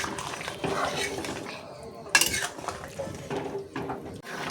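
Prawns tipped into a boiling pointed gourd curry in a pot, with clinks of a metal utensil against the pan and some stirring; the sounds are busy and close, with one sharp clatter partway through.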